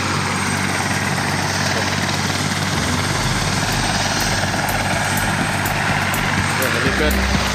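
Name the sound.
helicopter flying off from a helipad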